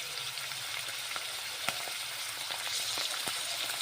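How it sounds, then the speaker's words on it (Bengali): Peas, green beans and carrots fry in hot oil with a dense, even sizzle, close by, broken now and then by small sharp clicks and pops as the vegetables shift in the pan. "তারপর ভেজে নেব মটরশুঁটি, বিনস এবং গাজর"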